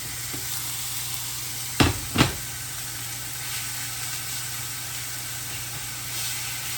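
Freshly picked garden greens fry in a pan that is too small, giving a steady close sizzle and hiss throughout, with two sharp louder bursts near the start as the pan crackles.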